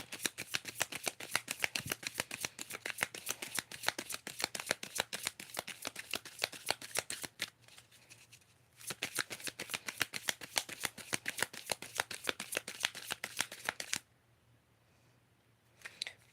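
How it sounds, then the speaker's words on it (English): A deck of cards is shuffled up close, with fast, crisp riffling clicks running in two long bursts separated by short pauses, ending in near silence. "These cards are flipped, so I need to turn them over and reshuffle again."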